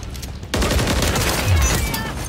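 Rapid bursts of automatic gunfire and fusillade in Call of Duty: Modern Warfare 3 multiplayer, loud and dense throughout after a brief quiet start, with no one talking.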